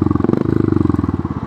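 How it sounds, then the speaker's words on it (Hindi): A Royal Enfield Hunter 350 with a megaphone exhaust revs up, a loud, close, rapid pulsing thump whose beat quickens slightly as the throttle opens. "प्रॉपर एग्जॉस्ट नोट आपको यहाँ पर देखने को मिल जाता है"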